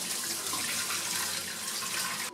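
Water pours steadily into a kitchen sink as cooked sweet potatoes are drained, a continuous close splashing rush that cuts off abruptly at the end, with no talking.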